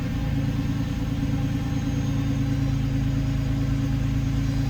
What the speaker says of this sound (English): start it up. This is a cold start.